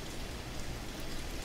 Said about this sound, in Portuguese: Chuva agora um pouquinho mais fraca